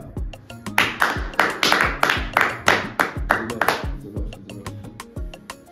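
A group claps in a brisk, uneven burst of about a dozen sharp hand claps, loud and close, then tapers into scattered softer claps at the end.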